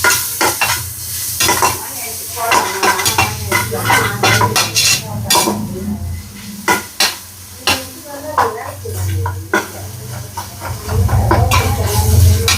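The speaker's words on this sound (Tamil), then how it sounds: "இந்த வெங்காயம் வந்து நல்லா வதங்கணும்" Onions with ginger garlic paste stirred and fried in a pan, loud continuous sizzling with repeated spatula scrapes and clinks against the metal, close up and steady throughout.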